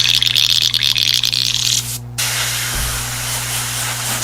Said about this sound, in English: Spray a couple times just to get whatever remnant of the more green was in there.